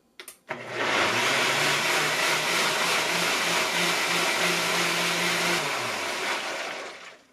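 A NutriBullet blender on low speed purées cooked apples in a small cup, a loud steady motor whine with a churning grind that runs without pause for about five seconds before winding down.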